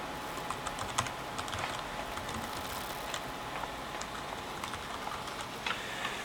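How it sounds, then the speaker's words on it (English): Someone types an email on a computer keyboard. The key taps are soft, quick and irregular, fairly faint and close, and continue throughout with no speech. "you'd have to type in your email"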